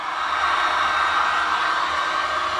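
A steady, loud whoosh of a heat gun blowing hot air onto a Honda CB350 wheel hub, continuous and unbroken with no voices.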